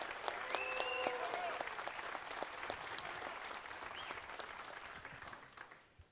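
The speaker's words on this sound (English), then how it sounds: "can we have a nice round of applause for Mr. Earl Strickland" Audience applause greeting a player introduced at a world 10-ball pool championship, steady clapping from a crowd throughout with a few tonal sounds over it, tapering off at the end.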